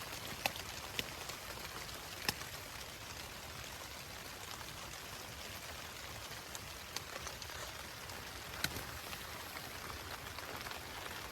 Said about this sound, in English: If you want to know what rain sounds like on a DCF tent